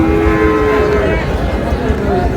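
Sahiwal bull calves moo loudly and up close at a cattle market in Noakhali, one long drawn-out low moo followed by a shorter call, with faint crowd murmur behind.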